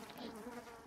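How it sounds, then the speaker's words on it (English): A bee buzzes in the Roblox game Ricky Rat Chapter 2, a close, steady, wavering drone lasting under a second, with no talking over it. "the bee sounds, it scared me"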